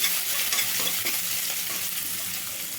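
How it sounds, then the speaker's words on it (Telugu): Small chopped onion pieces frying in well-heated oil for a wheat pasta dish, with a steady close sizzle and occasional scraping stirs in the pan, no voices. "ఆయిల్ అయితే బాగా హీట్ అయిందండి ఎల్లిపాయ ముక్కలు అండి చిన్న చిన్న ముక్కలు కట్ చేసి పెట్టుకున్న ఎల్లిపాయ ముక్కలు లైట్గా కలర్ చేంజ్ అవ్వాలండి"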